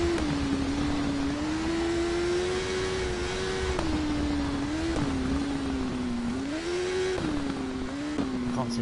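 A BMW racing motorcycle in the Isle of Man TT road-racing game holds a loud, steady engine drone, its pitch rising and dipping with throttle and gear changes through a full lap section.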